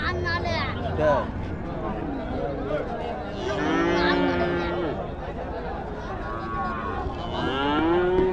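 Cattle moo repeatedly, long drawn-out calls rising and falling over a steady babble of people chatting nearby at a busy outdoor cattle market in Thiyagadurgam, Kallakurichi.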